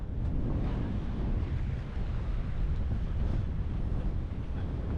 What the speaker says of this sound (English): Look at those waves, beautiful.